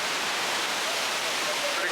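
Roaring waterfall at the Upper Falls in the Rocky Mountains, a steady, dense broadband rush of falling water filling the whole clip without a break.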